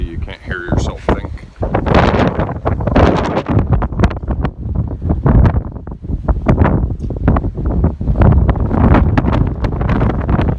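Fierce storm wind pounds the microphone in continuous loud, rumbling gusts, and voices can be heard speaking underneath the buffeting.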